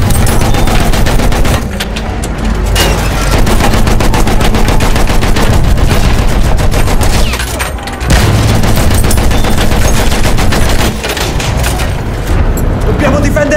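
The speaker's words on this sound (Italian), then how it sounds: "Attenzione, mitragliatrice!" Rapid machine gun bursts hammer away loudly and almost without pause during a Battlefield 1 Operations battle on Empire's Edge, a few short gaps breaking the fire, with booms and a voice shouting over the din.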